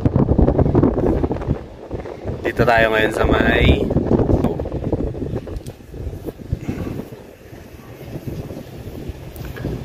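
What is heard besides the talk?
wind blowing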